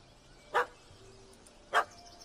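A puppy in The Witcher 3 gives two short, sharp barks about a second apart, moderately close over a quiet game ambience.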